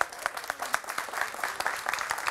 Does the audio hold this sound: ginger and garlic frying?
no